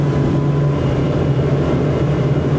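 A Parker Sorrento 100 motorboat's engine droning at full throttle, around 5,400 rpm at 40 knots, a loud, steady, constant deep roar with no pauses.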